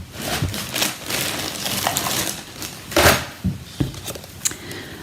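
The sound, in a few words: scissors cutting paper around stamped shape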